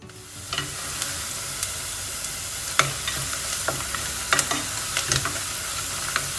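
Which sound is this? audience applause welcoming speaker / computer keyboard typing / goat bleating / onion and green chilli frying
onion and green chilli frying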